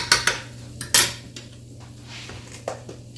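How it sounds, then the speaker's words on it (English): Flour being stirred and toasted in a pan over high heat, with a handful of sharp metallic scrapes and clinks from a utensil against the pan, spaced irregularly over a low steady hum. "Just make a little flour in there and move it around."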